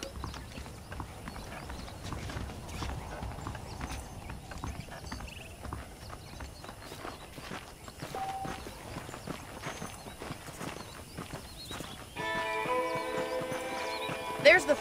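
A horse carries its rider at a steady walk in Red Dead Redemption, its clip-clop hooves sounding as a continuous rhythmic patter under the game's background ambience, with a spoken voice over the hoofbeats.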